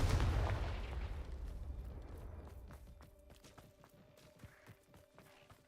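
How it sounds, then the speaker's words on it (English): A Confringo blasting spell bursts in Hogwarts Legacy with a heavy, deep boom that rolls and fades over a few seconds, followed by quieter scattered footsteps and clatter. "Confringo!"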